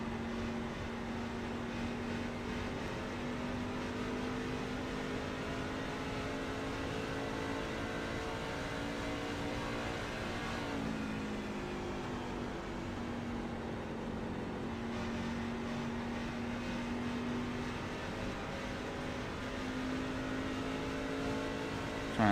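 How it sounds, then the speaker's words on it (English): A race truck engine in a NASCAR truck series game at Nashville Superspeedway holds a steady, buzzing drone at high throttle, dipping briefly partway through before climbing back, with no voices over it. "Trying to listen to the throttle here that he's got."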